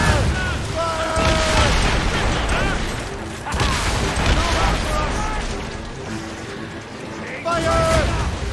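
Cannon fire during a naval battle in Assassin's Creed Rogue, several heavy booming blasts in irregular bursts over a dense battle din, with shouted voices over the top.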